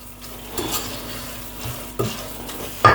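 Rice being stirred in a pot with pepper and spices, a spoon scraping and knocking through the grains with a few sharper clinks against the pot and a faint sizzle underneath, close and alone.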